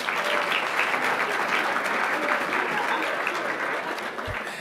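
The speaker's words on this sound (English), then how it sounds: "Applauding in her absence, Taija Isabel Traor." An audience at an awards ceremony gives dense, sustained applause, a thick continuous clatter of many hands that holds steady and eases slightly toward the end.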